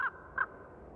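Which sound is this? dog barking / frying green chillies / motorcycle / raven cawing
raven cawing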